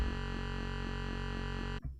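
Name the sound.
synthesizer with triangle wave LFO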